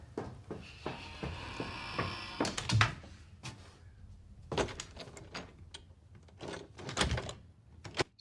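A door moves in a horror film, heard as a series of soft knocks, scrapes and creaks with a brief sliding rasp near the start, quiet and scattered over a dim, hushed background.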